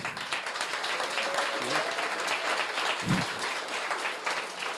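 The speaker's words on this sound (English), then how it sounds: "I'm gonna need a round of applause for Ayako" Audience applause fills the room at a coding bootcamp demo day in Tokyo, a continuous dense clapping crowd with a faint voice and brief low thump partway through.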